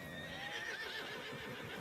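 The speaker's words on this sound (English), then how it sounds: "Oh my god, I got every horse in town going." Horse whinnying in a town street, a drawn-out wavering neigh at moderate distance, quiet over faint background noise.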